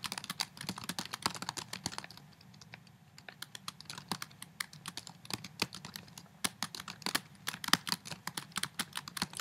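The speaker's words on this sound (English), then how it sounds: "And then you just type" Steady typing on a computer keyboard while writing a paper, with dense, irregular key clicks running nearly the whole time, a brief lull near the second mark, and no talking.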